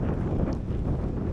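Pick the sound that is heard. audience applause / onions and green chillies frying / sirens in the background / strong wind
strong wind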